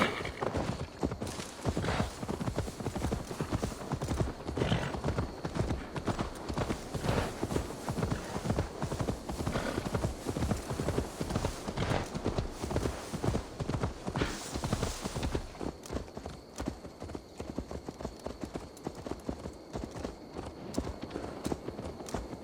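Horse hooves clip-clopping steadily and close in Assassin's Creed Valhalla, a regular trotting rhythm running for the whole stretch with a faint whinny mixed in.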